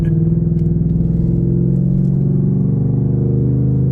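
A race truck towing a trailer runs with a loud, close engine that gives a steady low rumbling drone throughout, with no clear rise in revs.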